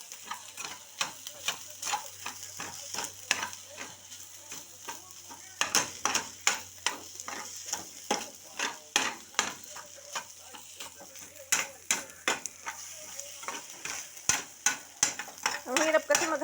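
Egg being stirred and fried in a hot pan for egg fried rice, a steady sizzle with repeated scraping strokes of the utensil against the pan throughout, close and fairly loud.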